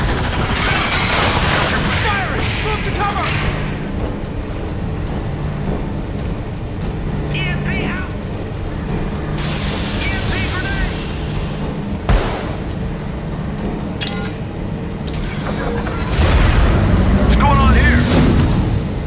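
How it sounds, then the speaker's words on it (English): Gunfire and explosions from a Crysis 3 firefight fill the scene with dense, loud rattling bursts and heavy booms, while voices shout over the combat. "Fire on his position! Firing!"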